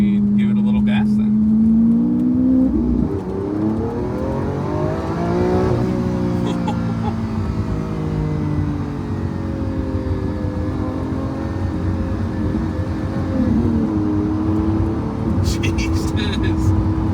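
Audi S5 accelerating on an open road, the engine note climbing through gears with a rising drone and shift dips, loud and close from inside the cabin, steady road roar underneath.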